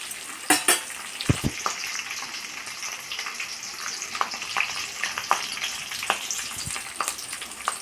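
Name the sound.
curry leaves and coriander leaves roasting in oil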